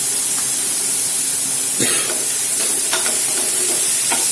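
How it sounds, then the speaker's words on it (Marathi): Chopped tomatoes and onions are stirred in a sizzling pan over a low flame, with irregular scraping strokes cutting through a steady fry hiss and no talking. "आता याला छान मिक्स करून घ्यायचं फ्लेम कमी ठेवायची"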